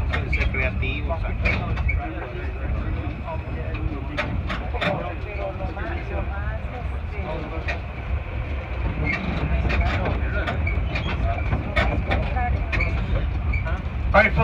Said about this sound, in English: Please wait for the tram to come to a full stop at the building